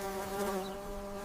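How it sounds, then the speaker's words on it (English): Flies buzzing steadily around a fallen zebu carcass in red dust under morning heat, a close, continuous droning hum with sustained tonal layers. "The flies are already buzzing around the fallen zebu."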